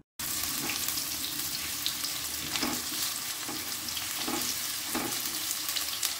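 Small cubes of potato fry in hot mustard oil in a wok, giving a steady close sizzle broken by occasional stirring scrapes.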